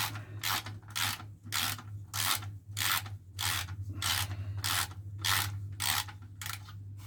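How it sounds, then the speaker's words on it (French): Ratchet with a 19 mm socket working an Audi A3 oil drain plug, a steady run of about a dozen rhythmic rasping clicks repeating under a low engine-bay hum, close and fairly loud. "La douille de 19 sur cliquet."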